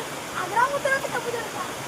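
Rainwater pours steadily off a tin roof in a windy storm, a close, continuous rushing splash with slight surges, and faint voices blend into it.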